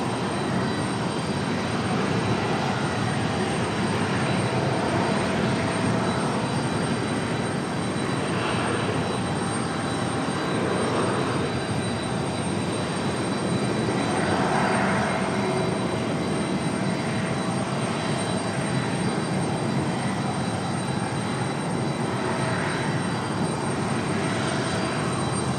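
A JetBlue airliner from San Juan comes in to land at Raleigh-Durham. It makes a moderate, distant, steady engine rumble with gentle swells that lasts throughout, and no talking is heard.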